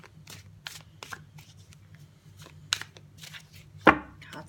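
Tarot cards being shuffled by hand in a quiet room, a series of soft riffling bursts and taps with one sharper slap near the end, over a low background hum.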